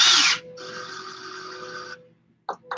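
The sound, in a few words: power drill spinning rod end in Zerba tool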